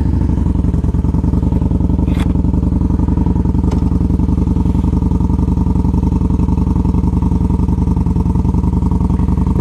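A 2014 Yamaha Bolt motorcycle engine runs steadily and loudly up close during a test ride, a continuous low rumble with no talking.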